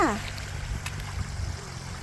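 Water overflowing and trickling through a rice field, a steady low gurgling wash with a brief voice at the very start.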